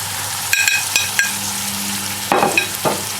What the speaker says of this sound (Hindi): इसको मिक्स कर लें अच्छी तरह